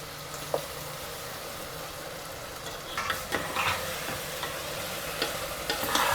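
Ginger garlic paste sautéing in oil and ghee, a soft steady sizzle with intermittent scraping stirs growing busier in the second half, close and fairly quiet.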